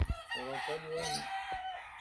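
An ash-gray gamecock with white legs, shown at a rooster auction, gives one short crow at moderate distance over a faint background murmur.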